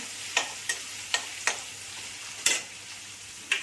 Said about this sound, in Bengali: আমি প্রথমে পেঁয়াজটা তেলে দিয়ে দিলাম।